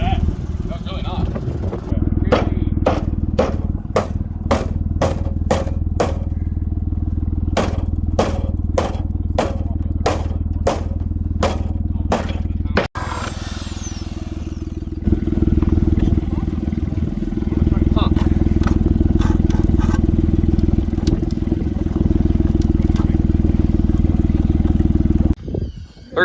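A roofless Ford Escape's engine runs with a rhythmic, regular knocking over a steady low rumble, then settles into a rougher, louder running sound in the second half, recorded up close with faint voices in the background.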